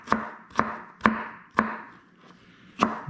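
A knife chops onions on a cutting board in a home kitchen: five crisp, close knocks in a quick, even rhythm, a brief pause, then one more chop, with no voices.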